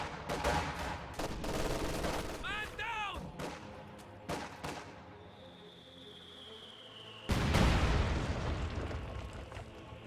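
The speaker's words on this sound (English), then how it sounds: "That mortar just blew up that teller mine just totally randomly." Mortar fire from auto fire blows up a Teller mine in a WWII strategy game, a sudden loud blast near the end following scattered gunshots and sharp impacts earlier in the battle.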